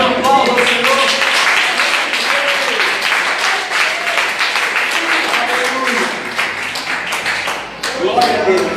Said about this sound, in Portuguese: eu posso ver um aplauso ao Senhor.